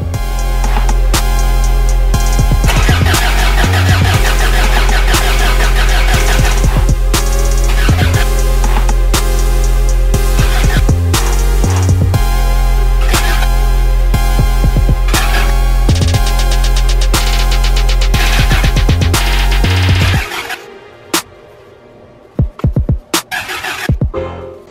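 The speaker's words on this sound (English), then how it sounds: "so I'm gonna crank that till I get oil out of there" A Toyota with a swapped-in TDI diesel engine cranks over continuously on the starter for about twenty seconds, loud and steady with a rhythmic chug, then cuts off into near silence broken by a few faint clicks.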